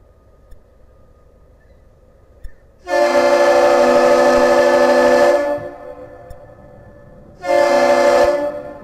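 The Great Lakes freighter Arthur M Anderson sounds its horn as a salute to the lift bridge operator: one long, loud, deep blast, then after a pause a second, shorter blast, with no talking.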